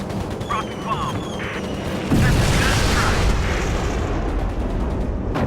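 A rocket bomb explodes in the Air Conflicts Pacific Carriers air combat game, a loud, broad blast that swells in midway and rumbles on under engine noise, with a voice talking earlier.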